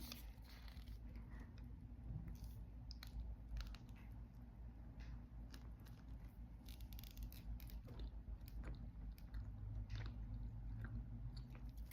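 Faint, close chewing and biting on a green shawarma made spicy with green peppercorns and kanthari chilies, with soft irregular crunches over a steady low background hum and no talking.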